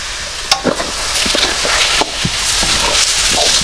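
Ingredients for village-style chicken khichuri with country chicken, rice and lentils stirred and fried in a pot, loud continuous sizzle broken by scattered scraping spoon strokes, close by.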